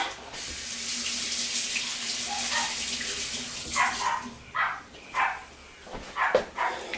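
Liquid from canned chili beans pours and drains, a steady splashing flow that breaks into irregular gurgles and spurts toward the end, close and fairly quiet.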